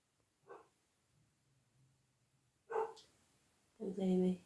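Dogs barking out in the countryside: a couple of short yelps, then a louder, closer burst of barking near the end, with quiet gaps between.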